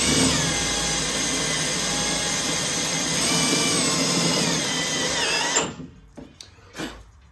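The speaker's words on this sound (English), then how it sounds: "drill them out" A power drill whines loudly and steadily, drilling out screws in a 1969 Trans Am dash panel up close, then cuts off, followed by a few short clanks and taps.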